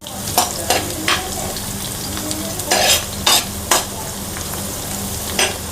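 Chopped carrots and green chillies sizzle in a frying pan, a close, steady crackle punctuated by several sharp scrapes and knocks of a spoon stirring against the pan, with no talking.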